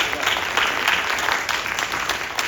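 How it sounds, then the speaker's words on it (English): Audience applause following a panel discussion on the film The Harvest, a dense, steady clapping from a crowd filling the room, moderately loud and unbroken throughout. "Let's give them another round of applause."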